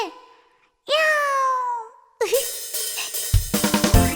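A cat meows several times in a row, clear drawn-out cries close to the listener, followed by a busier stretch of quick rhythmic sounds, with no talk.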